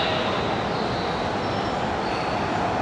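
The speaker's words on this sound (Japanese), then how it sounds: "回送列車通過です。" A Keisei AE-series Skyliner train on a test run roars through Nippori station without stopping, a loud, steady rush of wheels and wind close by that holds for the whole moment.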